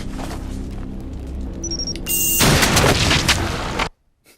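A mannequin packed with C4 explodes in a film scene. A loud, broad blast roars for about two seconds over tonal background sounds, then cuts off abruptly into near silence.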